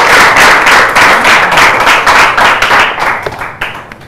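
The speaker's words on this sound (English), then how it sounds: "A round of applause." Studio audience at a televised quiz show clapping loudly, a close, energetic burst of applause that thins out and breaks into scattered claps near the end.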